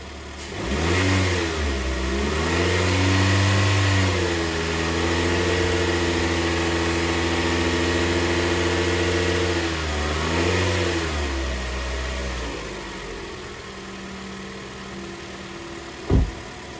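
A 2019 Toyota Corolla engine is revved from idle and held at about 2,500 RPM for several seconds during a battery and charging test, a close steady hum that rises, holds, then eases back down.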